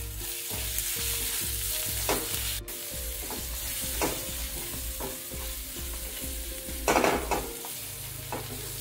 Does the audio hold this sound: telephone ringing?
no